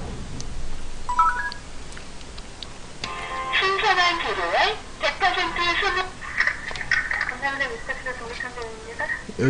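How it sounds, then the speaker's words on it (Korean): A telephone's keypad sends a few short dialing beeps, first as a brief early pair and later as a quick series, while someone talks loudly over them. "전화해서 물어봐야겠다."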